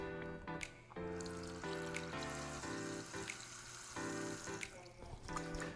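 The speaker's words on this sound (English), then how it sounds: "Add a little water to it, please." Water pouring and trickling into a pan in a home kitchen, a steady liquid stream with brief breaks and some clinking, fairly faint and without speech.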